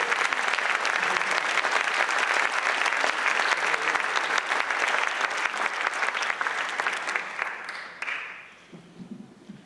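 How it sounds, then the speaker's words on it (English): Loud, dense applause from a festival audience at an Italian film festival as Anna Maria Di Giorgio stands, sustained evenly for several seconds before tapering off near the end. "I would like her to stand for your applause, please."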